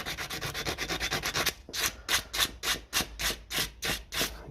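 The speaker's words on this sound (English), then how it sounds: "We'll just run a bit of sandpaper over them." Sandpaper rubbed over the flathead screws of a 1957 Ferguson 20 TEF diesel injection pump gives a steady, fast scratchy rasp that shifts into slower, louder separate strokes. Close up, with no voices.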